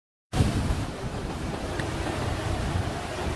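Sea waves on the Quezon coast, a broad steady wash of surf mixed with wind buffeting the microphone, continuous and fairly loud with no voices.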